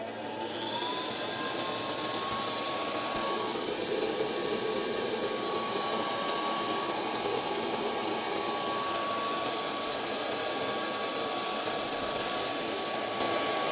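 The air blower of a DIY home coffee roaster, loaded with about 300 grams of beans, runs with a steady, even whooshing roar and a faint thin whine above it, continuous and unbroken throughout.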